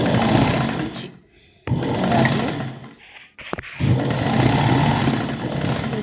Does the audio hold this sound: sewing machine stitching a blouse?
yes